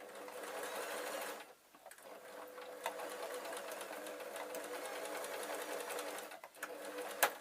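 A sewing machine stitches a log cabin jelly roll quilt in long runs of rapid, even whirring. It stops briefly twice, including a short reverse-stitch pause.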